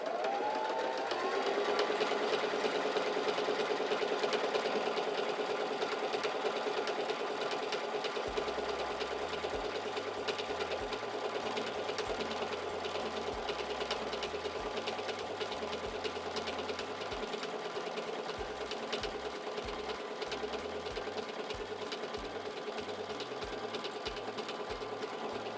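Singer 3337 sewing machine stitching fabric, a steady close rapid mechanical whir running on for a long stretch with even rhythm and no talk.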